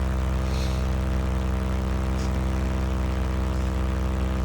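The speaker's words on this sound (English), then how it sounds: "why is my motor revving up when I push the smoke button?" A model airplane's small propeller motor drones steadily at high pitch, a constant close buzzing whine with harmonic overtones and no speech.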